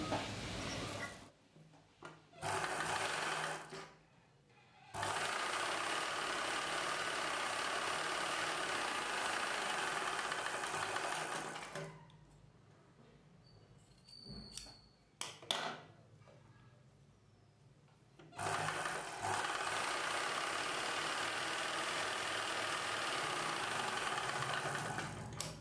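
A sewing machine stitches a lining blouse piece in steady, whirring bursts, stopping and starting with quiet gaps between runs.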